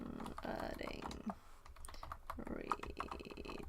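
Rapid clicking keystrokes on a computer keyboard patter close and quiet while someone typing git commands talks over them.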